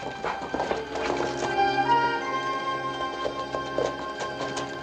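Horse hooves clip-clop in a western film scene, a steady rhythmic clatter blended with a musical score, moderately loud and with no talk.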